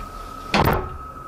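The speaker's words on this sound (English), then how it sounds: "I command you to shut the door." A door shuts on its own with a single sudden thud midway through a quiet room tone, loud and fairly close, with a short decay and no talking.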